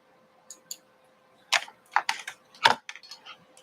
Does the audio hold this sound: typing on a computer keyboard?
yes